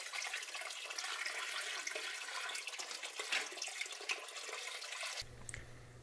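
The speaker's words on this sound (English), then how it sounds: "I added about 15 gallons of water" About 15 gallons of water pours steadily into a container as a broad, continuous rushing splash for several seconds, then cuts off abruptly, leaving a faint low hum.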